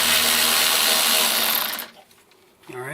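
Power tool removing 8mm bolts from the front nose panel of a BMW E36 M3: a loud, steady whirring buzz runs for nearly two seconds, then cuts out, followed by a brief quieter burst near the end.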